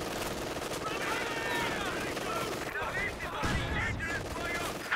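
Heavy artillery barrage in the World War II strategy game Company of Heroes 2, with Royal Artillery forces: dense sustained booms and rattling gunfire layered over a constant loud battlefield din.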